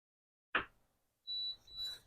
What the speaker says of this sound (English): It's starting to beep to tell you that it's out of the water, and then it's going to automatically shut off